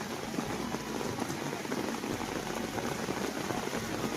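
Heavy, pounding rain falls steadily and densely, a continuous close hiss and patter on surfaces with no break and no talking.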